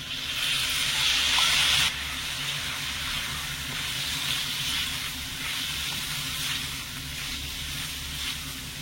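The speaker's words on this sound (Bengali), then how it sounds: "মশলাগুলো কষানোর জন্য সামান্য একটু দিয়ে দিচ্ছি জল।" Loud steady hissing sizzle as a little water hits garam masala and Kashmiri chili powder frying in a pan, strongest at first and then settling into a continuous softer steam hiss.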